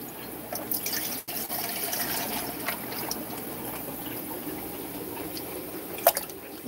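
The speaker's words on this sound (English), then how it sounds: "I've got RO water and I'm just going to put it in there." Reverse-osmosis water poured into a fish-room aquarium tank, a steady close trickle and splash running for several seconds with no talking.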